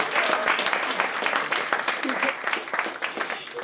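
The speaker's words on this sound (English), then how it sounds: "round of applause for that" A stand-up comedy crowd in Bucharest breaks into applause, a dense, close, energetic burst of clapping that runs steadily, with voices mixed in.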